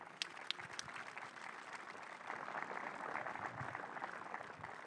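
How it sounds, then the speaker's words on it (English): Applause from an audience at the launch of the all-electric STCC touring car series in Helsingborg, greeting the Brink Motorsports team and Tobias Brink: a steady wash of clapping with a few sharper claps, sustained throughout and slightly swelling. "huge round of applause. Brink Motorsports, Tobias Brink"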